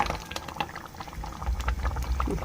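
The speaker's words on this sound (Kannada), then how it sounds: "ಈಗ ಇದು ನೋಡಿರಿ ಮಸಾಲೆ ಚಲೋ ಕುದಿಯಾಕತ್ತೈತ್ರಿ" A masala bubbles in a pan with soft, uneven gurgling pops and a low rumbling simmer, close and continuous, with no talk.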